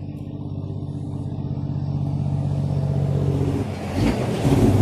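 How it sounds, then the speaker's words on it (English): A truck passing on a road near the Paringa Bridge after a flood, its engine rumbling low and steady as it draws closer and grows louder toward the end. "we'll just wait for this truck to pass"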